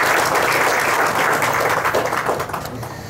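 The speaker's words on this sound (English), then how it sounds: "Can we just give Tony Meiser a round of applause?" A crowd at a senior apartments reopening ceremony breaks into steady, sustained applause, dense clapping that holds for a few seconds and tapers slightly at the end, with no speech over it.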